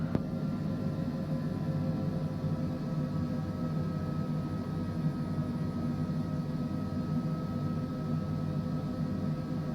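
Airliner engines in Microsoft Flight Simulator 2024 during a takeoff run, a steady, loud jet roar with strong low rumble that holds unchanging throughout, with no talk over it.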